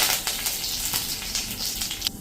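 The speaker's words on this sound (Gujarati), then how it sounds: "આપણે અડદની દાળ એ અડધી ટીસ્પૂન જેવી, લીમડાના પત્તા" Urad dal and curry leaves hitting about a teaspoon of hot oil for a tempering, a close, steady sizzle with brief crackling bursts and a sharp pop near the end.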